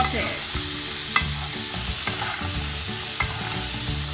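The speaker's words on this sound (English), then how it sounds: "elaichi or cardamom, ginger, garlic and 1 green chili. Now we will saute it." Cardamom, ginger, garlic, cashews and a green chili sauté in a pan, making a loud continuous sizzle and crackle close up, with a few sharp stirring knocks against the pan and no voices.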